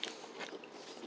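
Someone bites into crunchy Bailey's Irish cream baking chips, producing a quiet, close crisp crunch followed by soft chewing.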